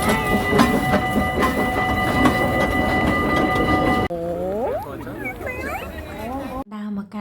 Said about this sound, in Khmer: ហើយនៅក្នុងកន្លែងសួនកំសាន្តហ្នឹងក៏យើងអាចជិះរថភ្លើងមើលជុំវិញនឹងបានដែរ